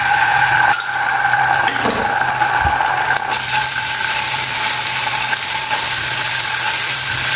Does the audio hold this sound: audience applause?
no